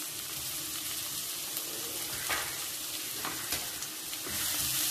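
Chopped onions softening in a pan for prawn thokku: a soft, continuous sizzle and hiss of frying that stays fairly quiet and steady, with a few light stirring scrapes.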